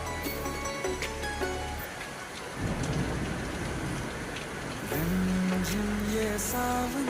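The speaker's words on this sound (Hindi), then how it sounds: "বছরের প্রথম ঝড় বৃষ্টির আওয়াজ।" First thunderstorm of the year, with heavy rain pouring steadily and pattering on surfaces close by, plus low rumbling and some faint tonal sounds mixed in, with no talking.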